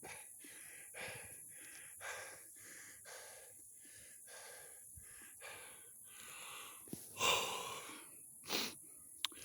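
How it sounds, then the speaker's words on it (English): A man breathes heavily after climbing high in hot weather, in repeated wheezing, gasping breaths with a few sharper snorts near the end, close to the microphone and without speech. "if you want to join me in my labored breathing, it is hot, I have climbed very high"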